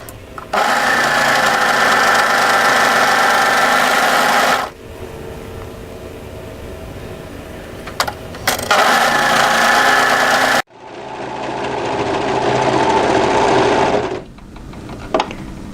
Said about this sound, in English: we're going to overlock each of the shorter ends